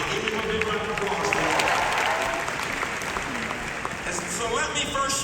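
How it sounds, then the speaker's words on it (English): Graduation audience applause at a UMBC commencement, a sustained roar of many clapping hands with crowd noise and some voices mixed in. "Give him a big round of applause."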